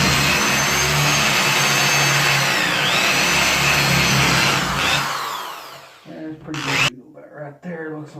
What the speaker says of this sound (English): I'm going to countersink a little bit for some of these slightly short screws.